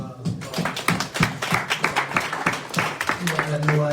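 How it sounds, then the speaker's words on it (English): Applause from an audience at a mental health reparations panel discussion, a few seconds of steady clapping with scattered sharp claps, fairly close and moderately loud. "Let's give him a round of applause"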